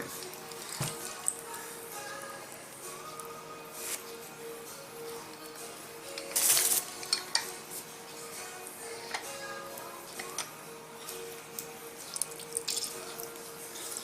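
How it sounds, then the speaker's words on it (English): Lime juice squeezed into spicy guacamole, soft wet squishes and drips close by, with a brief louder splash midway and no talk. "So I'm going to go ahead and add the other lime, the juice from the other lime."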